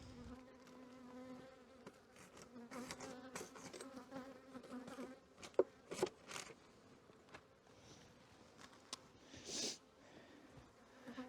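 Honey bees buzzing around an open hive during an inspection, a faint continuous hum of many insects close by, broken by a few soft knocks and handling noises.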